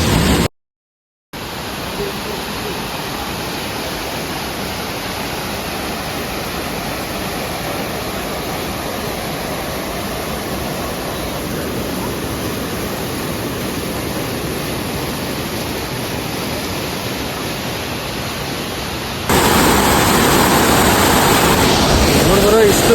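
Honnammanahalla waterfall in monsoon roars as a loud, steady broadband rush of falling water, briefly cut off near the start and swelling louder toward the end.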